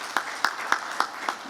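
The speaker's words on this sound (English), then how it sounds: "Please give them a clap for the support" An audience at a general assembly gives a sparse round of clapping, with about five separate, evenly spaced claps rising over a quiet room.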